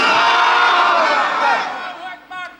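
A large crowd at an Islamic religious gathering roars a loud, unified shout of Allahu Akbar in response to a takbir call, the chant swelling and then fading, with a brief second burst of voices at the end.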